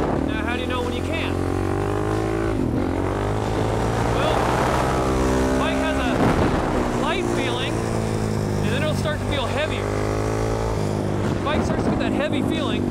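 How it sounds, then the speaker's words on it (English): A supermoto motorcycle engine on a Southern California track at Adams Motorsports Park revs and winds up repeatedly under throttle, loud and close with steady wind roar, while a rider talks over it. "the easier answer is to get on the throttle as soon as you can"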